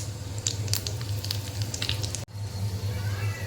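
Garlic, mustard seeds and asafoetida crackle in hot oil for a tempering for toor dal amti, a steady close sizzle with small pops and a brief break midway.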